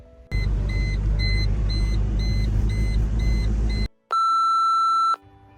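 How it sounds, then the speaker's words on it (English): A parked van's alarm beeps in a steady repeating pattern over a loud low rumble, then cuts to a single long sustained tone, with no voices. "the beeping alarm was still on"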